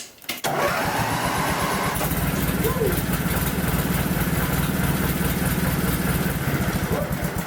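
A Summers Bush Machine engine starts with the choke on, catching after a brief crank and settling into a loud, close, steady chugging idle.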